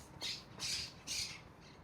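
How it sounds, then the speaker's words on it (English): A green parakeet squawks three times in a quiet residential plaza in Vitacura, Santiago, Chile. The harsh, shrill calls come in an uneven rhythm and sound faint and somewhat distant, with no voices. "Oh, it's a parakeet."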